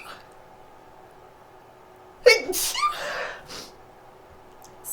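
A single sharp sneeze bursts out midway, with a quick breath and trailing exhale after it, against a quiet room.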